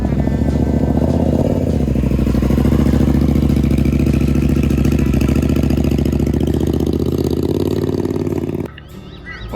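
A Triumph Bobber motorcycle engine idles loudly and steadily close by on a dyno, its throb holding even before dropping sharply in level near the end.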